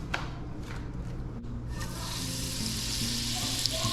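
Butter melts in a pan on low heat with a gentle, steady sizzle that grows slightly louder partway through, over a low background hum.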